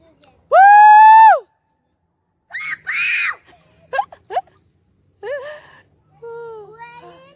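A person screams loudly outdoors on a lakeside picnic and nature hike, with one long, high, sustained shriek followed by shorter excited whoops and vocal bursts separated by quiet gaps.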